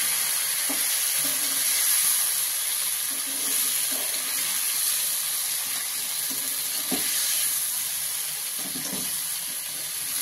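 Shengule dumplings dropped into hot tempering oil sizzle and fry with a steady loud hiss, with occasional stirring and scraping knocks close by.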